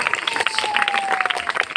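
A brief burst of audience clapping at a Telugu Christian sermon, close and fairly loud. A few voices rise within it.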